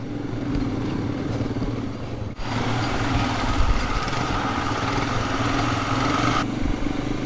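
Thunderbird motorcycle riding over rough, bumpy mountain terrain in Nepal, its engine a continuous loud rumble with wind rushing past and jolts from the uneven ground, no speech.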